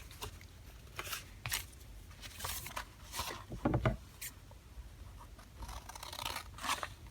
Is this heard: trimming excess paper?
yes